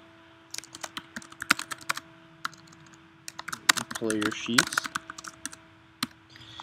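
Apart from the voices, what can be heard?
typing on a computer keyboard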